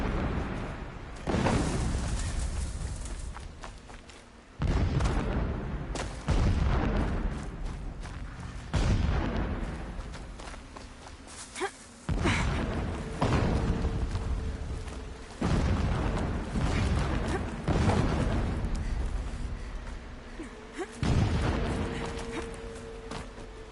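Explosions in Horizon Zero Dawn Remastered boom out one after another, about eight heavy blasts at irregular intervals, each trailing off in a rumbling decay.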